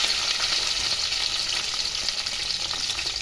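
About 150 grams of small onions sauté with ten to fifteen garlic cloves in oil in a pan, giving a steady, dense, close sizzle with faint stirring ticks and no speech.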